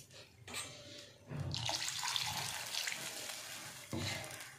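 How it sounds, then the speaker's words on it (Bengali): Water splashes from a tap or vessel into a cooking pot for rui fish curry, a close, hissing pour in two bursts separated by a short pause. "আমি আর একটু জল দিয়ে দেব।"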